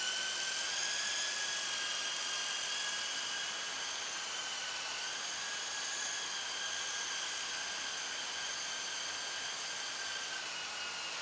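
A model Sea King helicopter runs while rolling along the ground, giving a steady high-pitched motor and rotor whine that holds evenly throughout, close and without talk.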